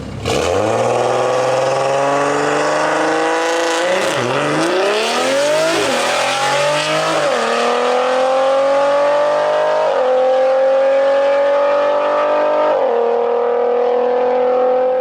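A big turbo BMW F30 340i accelerates hard on a drag run, its engine rising through several gears with sharp dips at each shift, loud and sustained without any talking.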